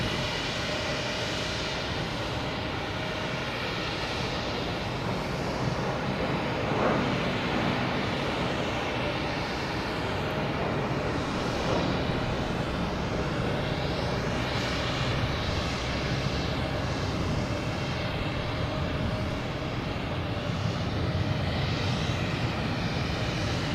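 At Boston Logan Airport an airplane's engines drone in a continuous, moderate roar, steady and somewhat distant, with faint shifting tones across the long stretch.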